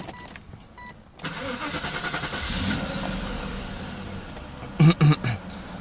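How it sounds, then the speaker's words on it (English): A Mercedes S 500 engine cranks and catches after a short quiet start, then runs steadily nearby before a few sharp, loud throttle blips near the end. "So let's start the vehicle, see if the throttle responses without the ASR module in it."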